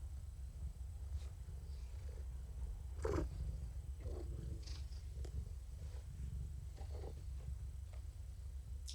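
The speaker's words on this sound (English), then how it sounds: "Kougra has not stopped purring yet." Kougra the cat purring in a steady low rumble throughout, close by, with a few faint brief noises over it and no talking.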